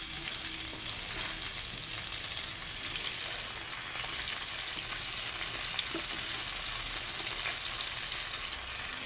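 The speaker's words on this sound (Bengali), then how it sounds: "এখন পাতাগুলো ভেজে নেব একসঙ্গে দিয়ে" Malabar spinach leaves fry together with vegetable stalks and eggplant in hot oil, giving a steady, close sizzling hiss with soft stirring scrapes throughout.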